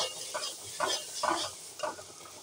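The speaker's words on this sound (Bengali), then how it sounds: "5-7 মিনিট মতো এটাকে কষাবো, যাতে করে আলুর ভেতরে সব লবণ মশলা এগুলো ঢুকতে পারে।" Potatoes being sautéed with salt and spices in a pan for a Bengali potato and lentil-dumpling curry, giving a soft sizzle with several bursts of stirring and scraping, close and alone.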